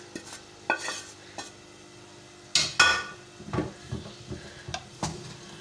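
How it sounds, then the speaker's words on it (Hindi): A spatula scrapes and clinks in a pan as fried egg is stirred into a vegetable masala, with intermittent metallic knocks and scrapes over a soft background sizzle, no talking. "अब हम इसको पूरी सब्ज़ी मसाले में मिक्स कर देते हैं"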